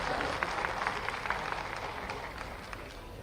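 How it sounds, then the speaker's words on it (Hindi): Audience applause welcoming the chief minister at an environment conference in Rabindra Bhavan, Bhopal: steady, dense clapping filling a hall, even in level throughout with faint voices mixed in. "जोरदार तालियों से एक बार पुनः अभिनंदन।"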